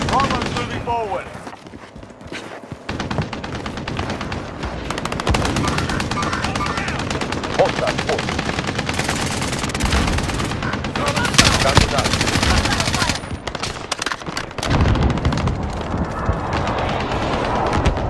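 A .50 cal machine gun firing in Call of Duty Warzone, loud rapid sustained bursts with short pauses, mixed with other gunfire and game voices talking throughout.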